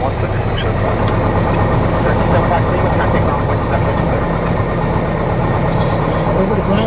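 A Piper Cherokee 140 light aircraft engine drones steadily at low power while taxiing, a constant close rumble from start to finish.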